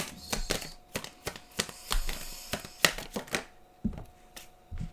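Tarot cards are shuffled and drawn during a reading, giving a series of sharp, close card flicks and slaps in an uneven rhythm, some louder thumps among lighter snaps, with no speech.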